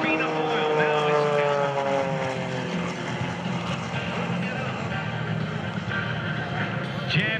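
An Alon Extra 300 aerobatic propeller plane in an airshow routine, the buzzing engine changing pitch as it dives and climbs, with an announcer's voice over the drone.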